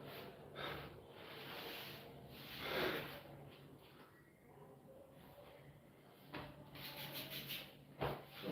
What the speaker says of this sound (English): You can rub your hands again and again.